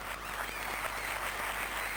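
An audience at a comedy skit show claps in a dense, even wash of sound that stays at a steady level for the whole stretch, with no voices on top.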